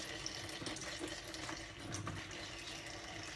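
Warm tap water runs in a steady, soft stream while a silicone drinking straw is washed, with faint splashing and a few light handling clicks.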